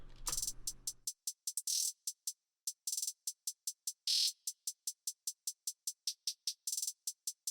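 Isolated emo rap hi-hats: crisp, bright ticks repeating in a steady pulse, broken by a few quick rapid-fire rolls, dry and alone with no other instruments.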